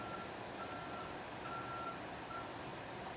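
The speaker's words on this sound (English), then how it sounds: "there's a truck beeping outside" A truck's reversing alarm beeps outside in short, evenly spaced pulses, heard from a distance through steady broadband background noise, with no talking.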